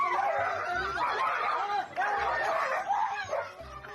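A dog barks and yips in a series of short, fairly faint bursts, with chuckling and voices mixed in around it.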